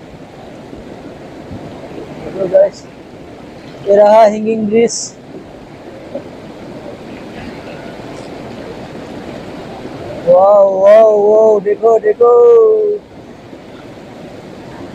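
A swollen river in flood at Kalaktang rushes past a hanging bridge with a steady, broad roar of water that runs through the whole stretch, while someone talks excitedly over it in bursts.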